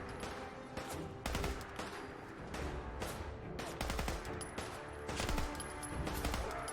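A gun with heavy recoil fires in Fallout 4, giving a rapid, loud series of shots in close bursts that sound like continuous automatic fire.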